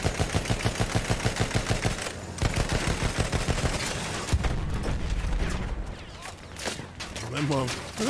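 Rapid bursts of automatic gunfire in Battlefield 1 multiplayer, a fast rhythmic volley at first, then scattered shots and explosions, with a person talking over the game sounds.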